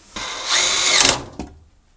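A power drill tightens screws on a dryer's panel during a noisy-dryer repair: one loud, close whirring burst with a rising pitch that cuts off, then a short second buzz.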